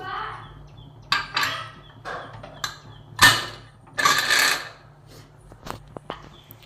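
Metallic clanks and scraping of a pressure cooker lid being set and locked, a few sharp clicks and rattles close by with quiet pauses between.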